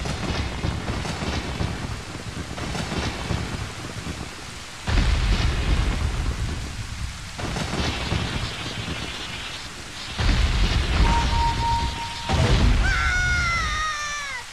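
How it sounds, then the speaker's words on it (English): Heavy rain and rolling thunder in the video game Zelda: Ocarina of Time, loud and continuous with surging bursts, a sustained tone and rising musical chirps near the end. "It's starting to rain."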